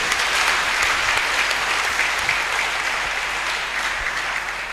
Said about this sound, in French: Est-ce que tu peux encore acclamer pour le Seigneur Jésus-Christ?